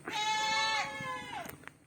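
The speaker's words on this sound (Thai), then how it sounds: "ผมสิผ้ามาปล่อยแพะไปกินอาหารครับ ในตอนเช้าครับ" Goats bleat in the morning on a small farm as they are let out to feed, one long wavering bleat sounding close and clear, followed by faint rustling and small knocks.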